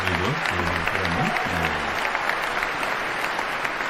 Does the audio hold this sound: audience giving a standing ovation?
yes